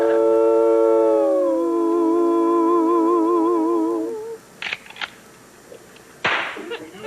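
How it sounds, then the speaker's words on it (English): Several coyote-like howls rise and waver together in a long sustained chorus for about four seconds, loud and close, followed by sharp cracks and snaps, as if from a theatrical Western radio show staged for a Christmas special. "Cue the coyotes."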